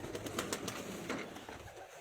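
Pigeons cooing at a fancier's loft in Lahore, a soft, low, continuous murmur of several birds, fairly close, with no talk over it.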